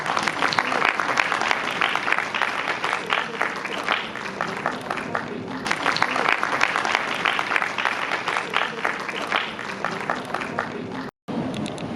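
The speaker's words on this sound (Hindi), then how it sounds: "आप मंच पर पधारें, जोरदार तालियां।" An audience at a school arts event applauds loudly and continuously as a principal is called to the stage, with voices mixed into the sustained clapping and a momentary cut near the end.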